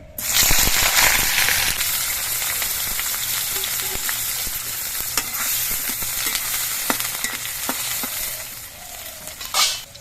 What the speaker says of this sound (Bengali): কড়াইয়ের তেলটা গরম হয়ে গেছে এবার আমি বেগুনগুলো ভেজে নিচ্ছি